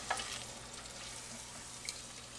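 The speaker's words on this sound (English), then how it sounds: "this is really good for deep frying in" Chicken wings, roasted first and then deep frying in hot oil at home, giving a steady broadband sizzle throughout with a couple of brief louder pops or crackles near the start and near the end; no one speaks.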